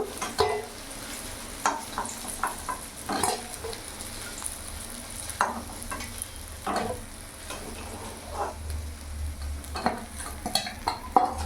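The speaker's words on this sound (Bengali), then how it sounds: "মাছগুলো লাল লাল করে ভাজা হয়ে গেছে" Steady oil sizzle from rohu fish frying in a pan, broken by irregular scrapes and clinks of stirring, fairly close with no voices.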